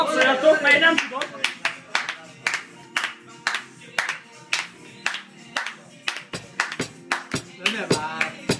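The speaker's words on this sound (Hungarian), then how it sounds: "Tapsoljatok, mert én nem tudok." Hands clapping in a steady rhythmic beat at a birthday party, evenly spaced sharp claps carrying on for several seconds while people talk and call out over them.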